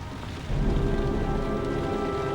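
Video game rain falls steadily on a surface throughout, louder after the first half second, with a faint tonal hum underneath and no one talking.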